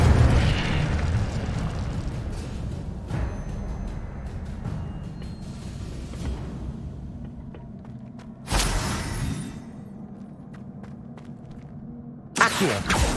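Fire spell Incendio cast repeatedly in the game Hogwarts Legacy: rumbling, roaring bursts of flame with a few sharp louder whooshes standing out over a continuous low game din.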